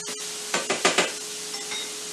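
A meatball mixture of breadcrumbs, eggs and cheese is stirred in a bowl, giving a few close, quick scraping and squelching strokes in a short burst over a faint steady background hiss.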